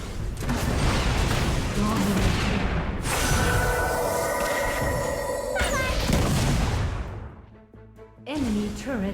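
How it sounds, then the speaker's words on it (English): A turret being destroyed in the mobile game Wild Rift: a loud, dense roar of crashing blasts with ringing tonal layers, which thins out near the end before a short final burst. "Enemy turret destroyed."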